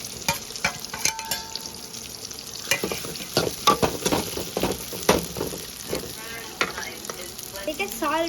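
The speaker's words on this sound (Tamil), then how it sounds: "நல்லா வதக்கிடணும்." Onions and potatoes sauté in a pan for Yippee noodles, with a continuous frying sizzle and frequent stirring clinks and scrapes close by, no speech.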